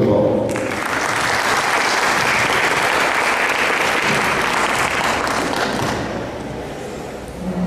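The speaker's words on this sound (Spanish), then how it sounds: "Fuerte aplauso para nuestros expositores, por favor." Sustained applause from an audience at a plenary session fills the clip, dense and steady, fading slightly toward the end.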